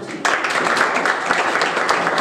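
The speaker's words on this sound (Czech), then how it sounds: "Prosím, potlesk." Audience applause at an award ceremony for a regional sports personality vote, starting abruptly after a brief pause and continuing as steady, dense clapping from a crowd in a hall.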